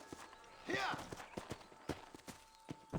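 Horse hooves clip-clop in Red Dead Redemption, a steady run of sharp, evenly spaced knocks close by, with a brief whinny-like cry early on and a faint background hum.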